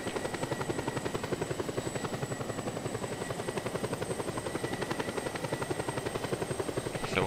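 A helicopter flying in Just Cause 2 gives a loud, steady rotor thump that pulses rapidly and evenly over a constant engine whine, with no voices.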